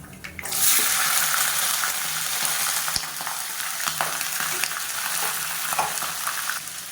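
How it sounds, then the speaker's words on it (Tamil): Mustard seeds splutter in hot oil, sizzling and crackling steadily after a sudden start, with scattered sharp pops and spits throughout. "கடுகு பொரிய ஆரம்பிக்குது"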